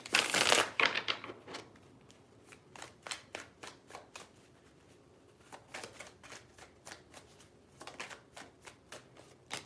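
Tarot cards being shuffled by hand, an opening burst followed by rapid rhythmic riffles and flicks in several bursts with short pauses, close and fairly quiet with no talking.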